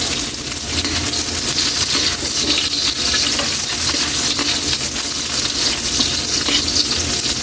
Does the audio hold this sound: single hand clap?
no